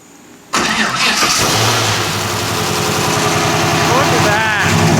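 A 6-liter LS V8 in a Nissan 240SX cranks and fires abruptly into a loud, lumpy, roaring idle that stays steady and close, with voices talking over it.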